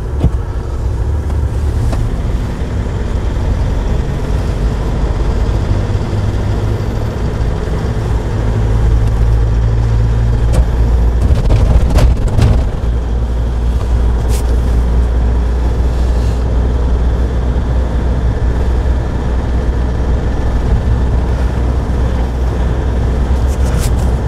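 A manual-transmission car driven on a road during a driving-test practice session, its engine droning steadily with low rumble throughout and brief changes in tone as the clutch is pressed and gears move up through third and fourth.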